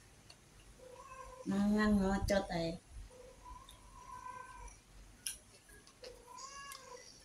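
A cat meows faintly in a quiet room while a person talks nearby, with a few brief high mews scattered between and after the speech.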